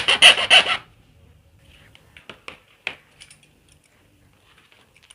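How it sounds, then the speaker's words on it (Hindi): A rasp files the socket opening of a plastic extension board, giving three loud close scraping strokes at the start and then sparse, fainter scratches and taps. "तो ये सॉकेट को मैं घिस लेता हूँ इस तरह से।"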